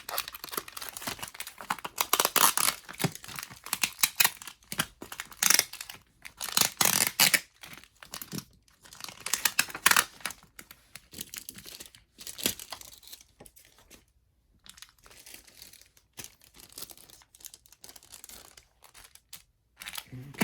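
Taped-on items are ripped off merchandise packaging in a series of close crinkling tears and plastic crunches, coming in irregular bursts separated by short quiet gaps.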